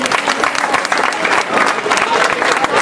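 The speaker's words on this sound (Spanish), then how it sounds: "fuerte el aplauso" Applause from a crowd at a cycling race trophy ceremony in San Bartolomé, La Galga, filling the space with dense, steady clapping that stays loud and even throughout, with no break.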